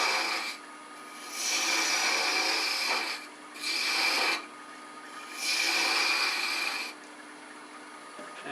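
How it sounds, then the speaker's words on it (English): A 3/8 inch bowl gouge cuts wood on a lathe while a finial is roughed out, giving three loud, close, raspy scraping bursts with short quieter pauses between them. "Some of this work I'm going to use a tiny little 3/8 inch bowl gouge. I've got to take some of this out"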